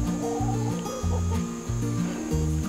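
A hen on a backyard chicken keeping setting clucks repeatedly in a steady rhythm, close and clear with no speech over it.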